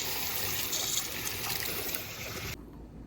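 Water trickles steadily from a watering can onto fast-growing potted plants, a close, continuous splashing stream that stops abruptly near the end, with no talking.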